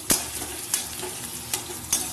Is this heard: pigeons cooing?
no